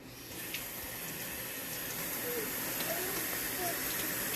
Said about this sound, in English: I'm going to leave the water running for a second